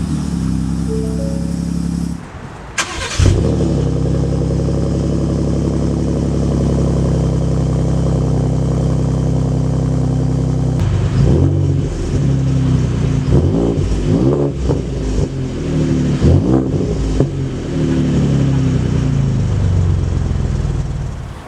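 Shelby Baja Raptor with a supercharged engine: a steady loud idle gives way after a brief dropout to a series of sharp, close revs that rise and fall repeatedly over a rumbling baseline.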